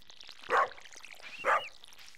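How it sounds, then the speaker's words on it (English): Dog barking in the Stardew Valley farming video game, two short clear barks about a second apart, fairly quiet and alone with faint game ambience. "Oh, what are you barking at?"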